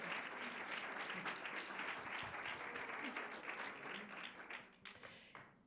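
A crowd at an architecture lecture claps and applauds steadily for several seconds, a dense, even patter of many hands that tapers slightly at the end.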